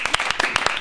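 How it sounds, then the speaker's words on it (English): A comedy show audience claps in a brief, brisk burst of applause, each clap sharp and distinct in a fast, uneven rhythm. "Give yourself a round of applause"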